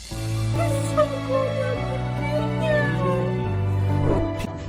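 A cat meows a few times over a steady musical backdrop, the meows mid-loud and close, drawn out with rising and falling pitch.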